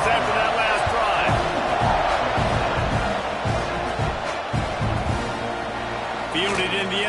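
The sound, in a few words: football stadium crowd cheering in video game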